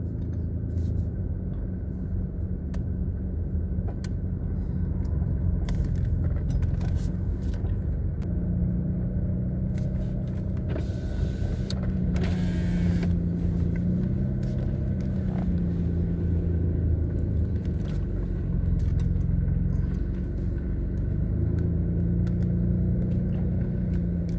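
A car travels a bumpy gravel road, producing a continuous loud, close rumble of engine and tyres with faint rattles and jolts layered through it, no talking.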